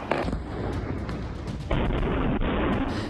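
Repeated deep booms and blasts rumble at Nur Khan Airbase in Rawalpindi during military strikes, a dense run of explosions with a louder burst partway through and no voices.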